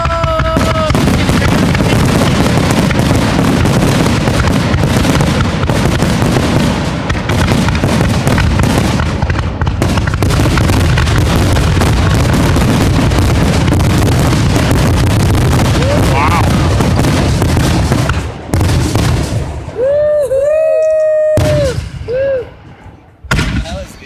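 Fireworks finale at a town festival, the Preston Trout Days: a dense, loud barrage of booms, crackles and bangs that runs continuously for about twenty seconds, then thins to a few scattered bursts with whistles as it ends.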